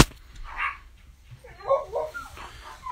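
Dogs barking and yipping in short bursts at moderate distance, a few separate outbursts over a quiet background with no talk.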